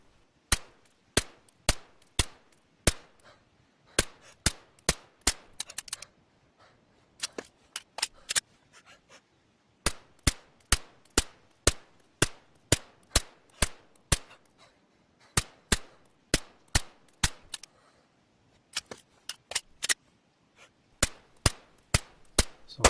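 Suppressed pistol shots from the video game DayZ fire in a long, fairly regular series of sharp, dry cracks, some in quick pairs, close and alone with no talk.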